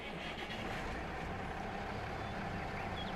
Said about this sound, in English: let's listen to the motor fire up